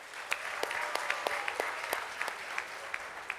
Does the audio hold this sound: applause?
yes